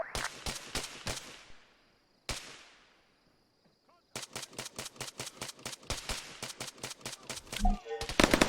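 Gunfire in the military shooter game Arma 3: sharp shots and rapid automatic bursts, with a single echoing report trailing off into a quiet gap before a long, steady stream of closely spaced shots resumes.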